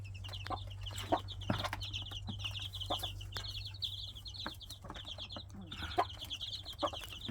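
Hen and chicks eating bananas outdoors give soft, repeated clucks and peeps in a steady stream, with a low constant hum beneath and a few sharper pecking knocks.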